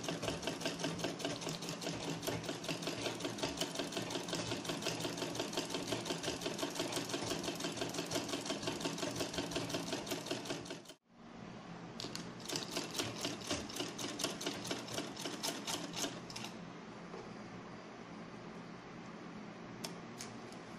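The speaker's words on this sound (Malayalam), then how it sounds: "ഇന്ന് തയ്ച്ചു നല്ല സാവധാനം തയ്ച്ചാൽ മതി" A sewing machine stitches along a folded fabric edge, its fast rhythmic needle clatter loud and close, stopping briefly around the middle before starting again and running on at a slightly lighter level.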